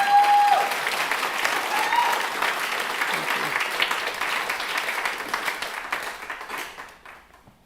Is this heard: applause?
yes